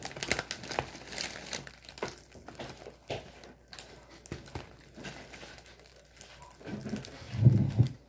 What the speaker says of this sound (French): Maintenant, je vais ouvrir l'autre boîte.